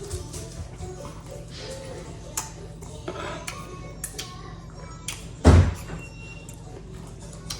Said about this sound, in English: Can you go close that door, please?